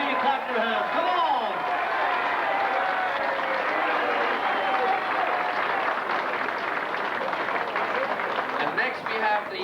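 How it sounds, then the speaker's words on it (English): Attendees at a reunion clap their hands for a guest, sustained crowd applause with a voice talking over it in the background throughout. "let's hear you clap your hands"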